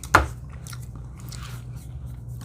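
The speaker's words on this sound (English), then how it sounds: "Already chewing on down on the fries." Fries from a food truck are bitten with one sharp crunchy bite close to the mic, followed by quieter soft chewing against a low background hum.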